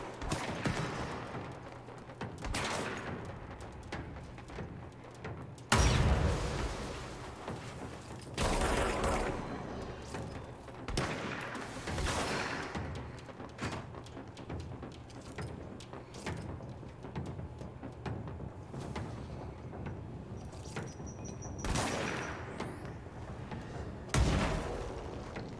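Gunfire in the video game Control, a series of loud bursts and booming shots separated by pauses, with heavy thuds and mechanical clanks amid game ambience.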